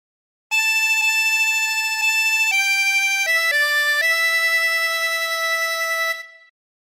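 A chromatic harmonica plays a short melodic phrase from House of the Rising Sun, a run of sustained, bright reedy notes stepping between pitches, heard alone and close with no talking.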